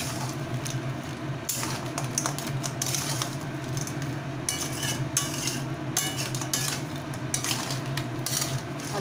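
Spicy crab curry is stirred in a pan after a teaspoon of garam masala powder goes in, with steady, busy scraping and clinking of a spoon against the metal, close and continuous with no talking.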